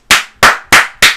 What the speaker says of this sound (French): J'applaudis Coco.